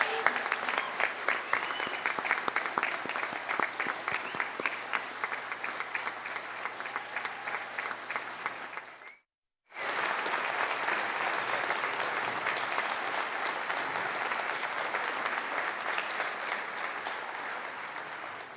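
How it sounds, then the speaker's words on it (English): Graduation-ceremony crowd applauds Ontario Agricultural College graduates, a dense, steady clapping that breaks off briefly midway, then resumes just as full and continues to the end. "Let's congratulate all of the graduates from the Ontario Agricultural College."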